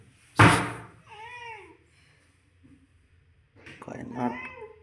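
A person imitates a cat, a loud burst of noise followed by drawn-out meow-like wails, then a short pause and more meowing sounds near the mic.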